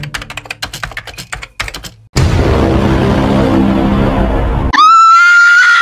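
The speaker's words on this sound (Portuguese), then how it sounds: "por que você está gritando?" A Roblox Brookhaven roleplay character screaming: after rapid keyboard-like clicks, a loud, sustained noisy scream fills the middle, ending in a high, shrill, whinnying cry.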